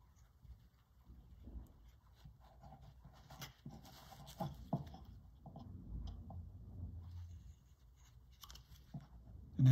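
A knife carving a small block of wood into a bear figure, with quiet, close, intermittent scraping and cutting strokes and soft taps, then a sudden louder knock at the very end.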